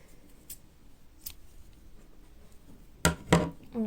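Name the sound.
scissors cutting crochet yarn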